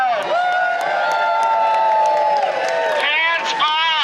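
A crowd at an Alameda "Hands Off" protest rally cheers and whoops, with voices rising into loud sustained shouts over scattered clapping, then a fresh burst of cheering near the end.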